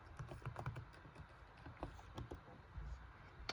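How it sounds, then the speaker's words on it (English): Close, quiet typing on a computer keyboard, irregular clusters of light key taps with brief pauses, alone without speech. "I wonder if they just accept Jimmy Neutron, because I don't want to type out the whole thing"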